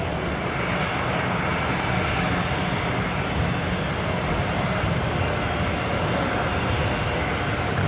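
A Qantas Airbus A321XLR jet lands at Brisbane Airport, producing a continuous, loud, broad engine roar that stays even for the whole stretch.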